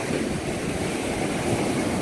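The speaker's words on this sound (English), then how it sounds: "I waited for the waves to come in and kind of take up a little bit more of the foreground" Ocean surf washing in on a sandy beach near the Hole in the Wall, a steady close roar of breaking waves with wind noise and no pause over two seconds.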